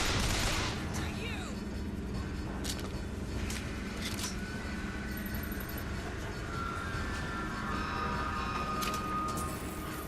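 Turret gunfire in the video game Bioshock Infinite crackles as rapid, fairly distant bursts over a steady, dense game background, with scattered sharper reports.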